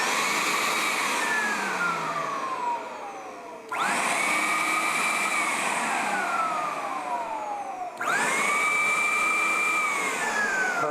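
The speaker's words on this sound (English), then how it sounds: "I'm going to turn each motor on individually, make sure we don't have any grinding." Newly installed motors are switched on one at a time, each whirring up with a rising whine, holding a steady loud hum, then winding down, with three start-ups in a row heard close and without talk.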